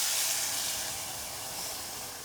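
Green enchilada sauce hits hot oil in a saucepan over medium heat, producing a loud, continuous close-up sizzle and hiss that fades slightly as it settles, with no talk.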